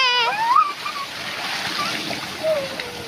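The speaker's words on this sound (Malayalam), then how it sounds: "നമ്മൾ പോണ്ടിലേക്ക് ഫസ്റ്റ് ബക്കറ്റ് വെള്ളം ഒഴിച്ചിട്ടുണ്ട്" A bucket of water poured into a newly dug farm pond makes a short, fairly quiet rushing splash, with a voice speaking briefly at the start.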